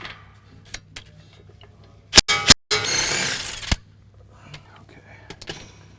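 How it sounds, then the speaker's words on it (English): A 22 mm wrench and socket break loose the lower strut mount bolts on a Toyota RAV4, giving a few sharp metallic clanks and a short burst of grinding ratchet noise amid quiet workshop background. "It's going to be a 22 wrench on the bolt and a 22 socket on that big front nut."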